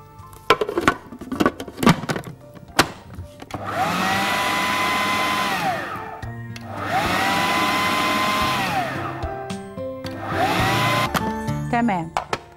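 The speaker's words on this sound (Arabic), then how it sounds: "بقدونس وبصلة. الكلام ده كله هنضربه مع بعضه الأول قبل ما نحط عليه اللحمة." An electric blender chops parsley and onion in three loud whirring bursts of a few seconds each, with clatter and handling noises between them and no talking.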